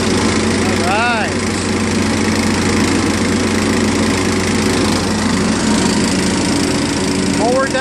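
Close and loud, a John Deere LA105 lawn tractor engine runs steadily with its mower deck engaged, giving a constant droning roar with a brief whining sweep near the start and another at the end.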